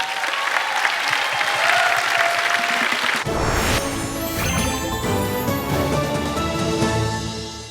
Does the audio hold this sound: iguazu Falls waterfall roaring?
no